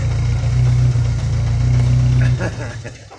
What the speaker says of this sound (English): We're going to wait till he kills his truck.